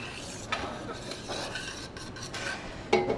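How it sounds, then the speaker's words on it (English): A utensil scrapes and clinks through a pot of chicken cacciatore as salt is mixed in, with soft rubbing strokes and a sharper knock of metal near the end, no talking. "Give it a mix."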